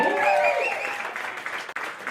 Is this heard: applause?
yes